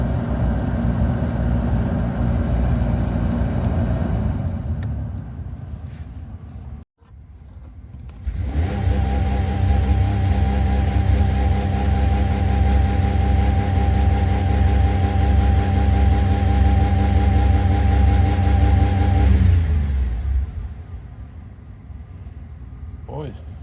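An old Lincoln car engine runs with a steady, close drone, briefly drops out, then restarts, settles into a strong, even idle and later eases back, with people talking nearby.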